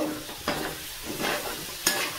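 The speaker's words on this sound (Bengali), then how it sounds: "ভালো করে আমি নেড়ে চেড়ে নেব।" A wooden spoon scrapes and turns chicken curry with fried potatoes, yogurt and a little sugar in a hot pan, with a steady sizzle under three distinct stirring strokes, close and fairly quiet.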